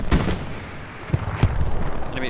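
Anti-tank gun fire in the World War II shooter Hell Let Loose on a Utah Beach map, several sharp heavy booms over a constant rumble of battle ambience.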